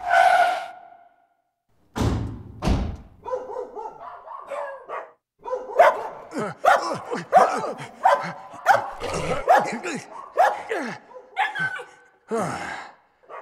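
A dog barks in a Christian New Year skit about a police visit, giving a rapid run of loud, close barks with short gaps and a few sharp gasping sounds near the start.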